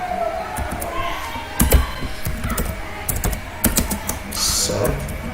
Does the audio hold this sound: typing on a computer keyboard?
yes